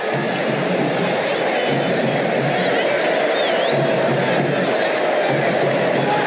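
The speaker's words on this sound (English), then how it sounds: "Some of this giant crowd leaving may give pause here." Huge outdoor crowd at a 1985 USFL football game between the Oakland Invaders and Baltimore Stallions, a dense, steady roar of thousands of voices with no gaps, loud and continuous with faint whistles rising out of the wash.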